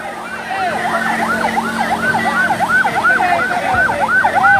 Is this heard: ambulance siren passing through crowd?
yes